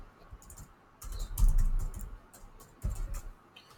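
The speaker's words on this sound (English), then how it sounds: "I double click on it, and I will write Trudy." Keystrokes on a computer keyboard come in quick bursts of clicks, close and moderately loud, with short pauses between flurries and no talk.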